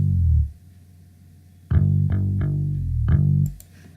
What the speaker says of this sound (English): Without Sound Goodizer, it sounds like this.